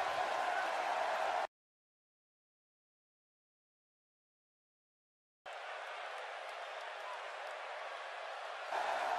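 Crowd applause and cheering from a live arena audience in a WWE wrestling video game, a steady roar that cuts out completely for several seconds, then returns at similar loudness.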